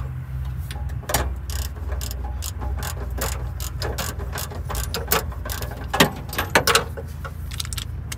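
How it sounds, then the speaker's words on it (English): Ratcheting torque wrench clicking steadily on a VW Thing air-cooled engine, a rapid run of sharp, close mechanical ratchet clicks with a few louder snaps near the end, over a low steady background hum. "Torque wrench set to 14 foot-pounds here, which is just about nothing, so you gotta be careful."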